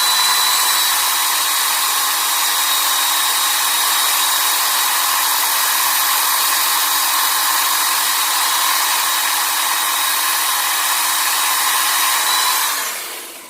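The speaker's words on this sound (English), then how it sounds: "Now we're going to flip the grinder around, do the other side of each of those." A bench grinder sharpening a hunting broadhead produces a loud, constant high whine for over twelve seconds, then spins down at the end, with no voices.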